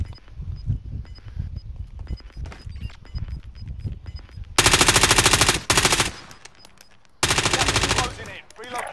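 Gunfire in Call of Duty: Warzone during a fight in a bank: scattered shots first, then loud sustained automatic bursts in two long stretches with a short break between them.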